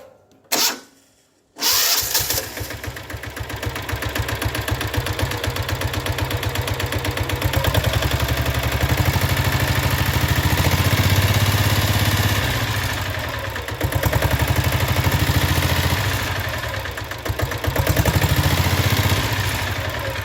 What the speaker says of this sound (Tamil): double core silencer மாட்டியாச்சு